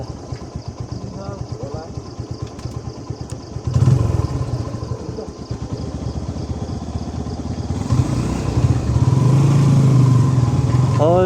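A motorcycle engine putters and revs, growing louder and straining as it pushes up a steep road to Gufa Danda, with people talking over it.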